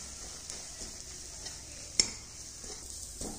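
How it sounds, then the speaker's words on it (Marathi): Masala paste for an eggplant (baingan) sabzi frying in a pan over medium heat, a steady close sizzle broken by occasional stirring clicks, with one sharper utensil tap midway and no talking. "ह्याला मध्यम गॅसवरती छान असं लालसर होईपर्यंत आपण परतून घेणार आहोत"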